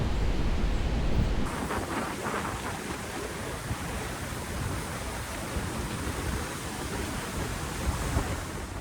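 Rushing water at Vernal Falls in Yosemite roars as a dense, steady broadband wash, loud and continuous with some wind buffeting and no talk.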